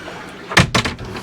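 Double doors to the owner's cabin of a Jeanneau Sun Odyssey 350 sailing yacht are pushed shut, giving one loud close thud followed quickly by a second bang and a softer rattle, close up and with no talking.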